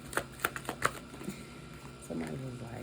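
Tarot cards are shuffled in a few quick, crisp riffles near the microphone, followed by a person's voice speaking quietly.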